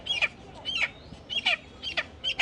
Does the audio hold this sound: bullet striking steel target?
no